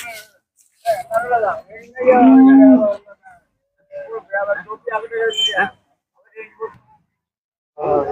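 Cattle at a cattle market: one loud, drawn-out moo near the start, then fainter livestock sounds mixed with people talking nearby in an open outdoor space.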